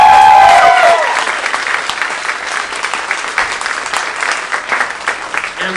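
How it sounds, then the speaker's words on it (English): An audience at the Columbus Funny Bone comedy club gives sustained, loud applause in honour of the wait staff. The dense clapping carries on steadily throughout with a faint crowd murmur. "I'm going to round of applause for your wait staff tonight"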